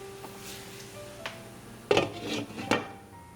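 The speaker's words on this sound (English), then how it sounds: "Now I'm going to cover with the lid again." A lid is set onto a cooking pot of zarda sweet rice, with a couple of clear metallic clanks and a clink over a quiet kitchen, no one talking.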